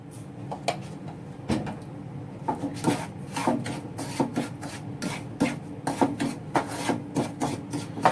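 Semolina roasting in a pan for gulab jamun, stirred with a spoon in repeated scraping, rasping strokes, close and irregular.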